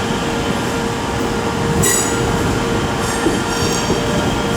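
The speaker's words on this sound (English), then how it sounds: "353-70 is also coming in with a London Northwestern Railway service." A Class 350 London Northwestern Railway train pulls into Birmingham New Street, a steady rumble of wheels on rail with brief high squeals of braking wheels heard up close.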